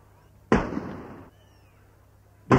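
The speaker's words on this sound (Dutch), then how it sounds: "Een saluutbatterij op de Sneeker Waterpoort lost 21 saluutschoten" A saluting battery on the Waterpoort gate in Sneek fires salute shots: one loud, booming report with a long rumbling decay, then a second blast breaking in right at the end.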